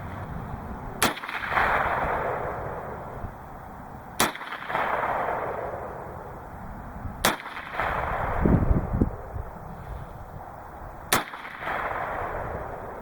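Four sharp gunshots from a six-shot revolver with a 6.5-inch barrel firing Hornady Critical Defense 22WMR 45-grain FTX rounds, evenly spaced about three seconds apart outdoors, each a loud crack over steady background noise.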